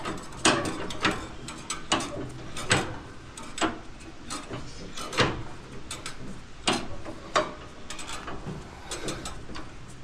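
A screwdriver is turned to tighten a part on broken equipment, giving repeated close ratcheting clicks and metallic scrapes in an irregular rhythm, with no talking.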